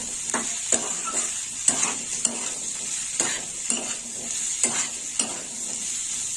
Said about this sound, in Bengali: কষে নেব বন্ধুরা এভাবে কষে নিতে হবে